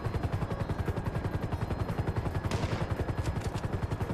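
Rapid automatic gunfire in the video game GTA V, a loud, steady stream of closely spaced shots running throughout, with a brief brighter burst midway and no talk.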